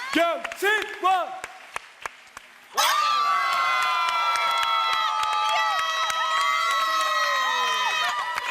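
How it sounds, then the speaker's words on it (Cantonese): A studio audience claps and cheers on a televised anniversary gala game show, a sudden burst of applause and shouts erupting after a brief spoken line and sustained under bright musical chimes. "俾掌聲支持下啦"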